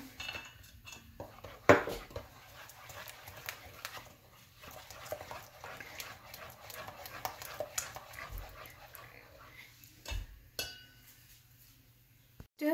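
A utensil stirs Vattayappam batter in a bowl, producing irregular close scraping and clinking, with one sharper knock partway through.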